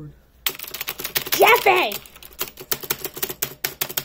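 Typing on a new 60% keyboard, rapid close clacking keystrokes in an irregular stream, briefly covered by a shouting voice before the clatter resumes.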